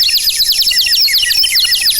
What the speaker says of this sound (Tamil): குயில்கள் கூகுகின்றன.